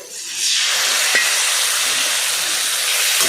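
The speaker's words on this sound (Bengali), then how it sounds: "ভাজা করলাগুলো তার মধ্যে দিয়ে ভালো করে নাড়াচাড়া করলাম তারপরে তার মধ্যে সর্ষে বাটা দিলাম" Fried bitter gourd with mustard paste sizzles in a hot pan with a steady hiss while being stirred, a brief clink of utensil showing through the constant frying noise.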